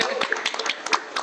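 A small group of people in a casual gathering claps briefly, a short burst of scattered, uneven hand claps heard fairly close, with some talk mixed in.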